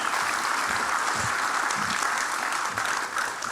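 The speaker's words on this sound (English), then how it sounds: "Give yourselves a round of applause after that." Theater audience at a Marine Corps birthday celebration applauds steadily, a dense, even wash of many hands clapping at close range with no break and no voices over it.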